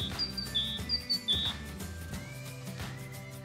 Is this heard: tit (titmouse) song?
yes